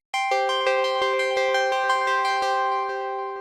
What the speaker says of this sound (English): this preset called 137 ARP 5th Prophet, which sounds like this by default